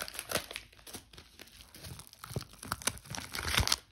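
Plastic packaging around a parcel of gel polishes crinkles and rustles as it is unwrapped, with bursts of close, crisp crackling and tearing that swell toward the end.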